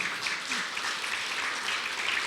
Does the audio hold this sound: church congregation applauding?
yes